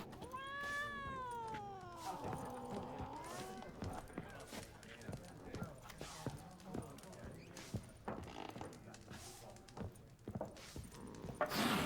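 A cat in The Witcher 3: Wild Hunt gives a clear rising-and-falling meow at the start, followed by faint hoof clatter and background game sounds.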